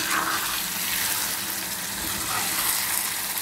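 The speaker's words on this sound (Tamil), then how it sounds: "இப்போது இங்கே நான் கொஞ்சமாக தாங்க தண்ணி சேர்க்குறேன்" A splash of water added to coconut paste frying in oil for a brinjal curry, giving a continuous, fairly quiet hissing sizzle with no talk.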